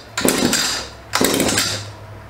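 An Echo PAS2620 power pruner's small two-stroke engine sputters twice as it nearly catches on the pull start: two short, loud mechanical bursts about a second apart, close up.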